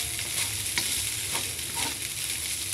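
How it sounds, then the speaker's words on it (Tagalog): Food is stirred in a frying pan with a steady close hiss of frying, soft scraping strokes repeating every half second or so, no one talking. "Haluin lang po mabuti."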